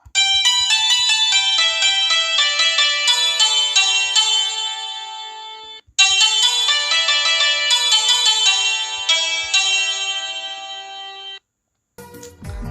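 A santoor tone without strings plays on a mobile keyboard app, with crisp struck notes tumbling in rapid descending runs, two phrases separated by a brief pause, then a short gap and a final burst; no voices.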